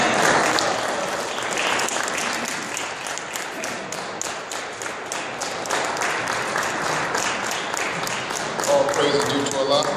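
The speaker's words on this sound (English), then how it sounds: "let's receive him with a warm round of applause" An audience at a religious lecture gives a warm, dense round of applause lasting about ten seconds, with voices calling out over the clapping.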